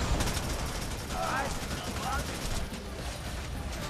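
Rapid bursts of gunfire in the video game Devil's Third crackle over a dense, noisy background, with a couple of brief metallic tones mixed in.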